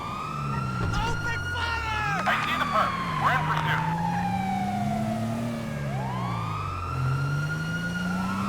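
Police car sirens in GTA V rise and fall in sweeping wails over a chase, loud and continuous with several overlapping tones and engine rumble beneath.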